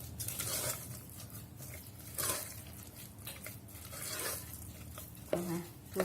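A spoon stirs a thick date cake batter in a bowl, making soft, wet scraping swishes in slow strokes with a brief clink near the end, quiet and close, with some talking.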